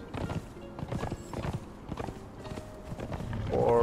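Horse mount hooves in the video game Conan Exiles, a steady clip-clop of footfalls at close range with a brief whinny-like tone near the end, loud and unaccompanied by speech.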